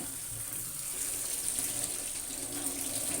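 Tap water runs steadily into a sink while fruit is washed, a continuous close hiss and splash with no talk over it.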